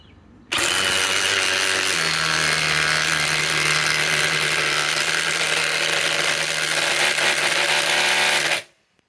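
DeWalt DCF860 and DCF921 cordless impact wrenches run loud and continuous for about eight seconds, kicking in abruptly, rising slightly in pitch, then cutting off sharply.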